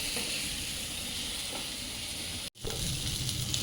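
Chicken fry sizzling loudly in a pan as it is stirred in a home kitchen: a dense, steady hiss of frying with faint scraping, cut by a brief silence partway through.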